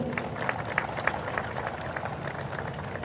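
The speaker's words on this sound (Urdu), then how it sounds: "ان سب کے لیے تالیاں آپ کی ضرور ہونی چاہیے" Applause and clapping from an audience in a stadium crowd, with dense continuous patter holding steady throughout and sharper claps popping out above the wash of noise.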